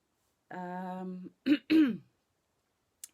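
A short hum of a voice is followed by two sharp, raspy throat-clearing coughs, close and clear, then silence.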